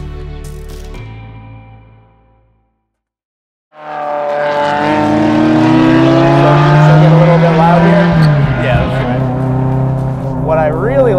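A Ferrari 355 engine cuts out briefly, then fires up and revs hard into a sustained, rising high-pitched wail that holds loud and close before easing, with a voice speaking near the end.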